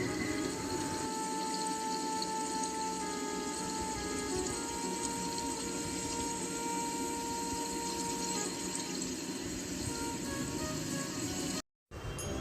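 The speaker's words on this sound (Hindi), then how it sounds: "इस चट्टान के ऊपर से झरना गिरता है।" Steady broadband rush of a waterfall pouring over a rock ledge beside the Jhariya Mahadev cave temple on the Chittorgarh–Kota highway, a continuous loud wash with a faint tonal hum, briefly cutting out near the end.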